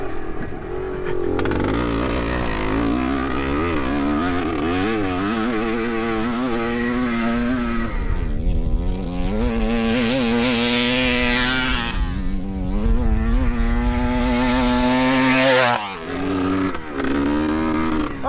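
A Yamaha RT1-M motocross bike, an early two-stroke dirt bike, rides a track with a raspy buzzing engine that revs up and down repeatedly, loud and fairly near, dropping briefly before picking up again.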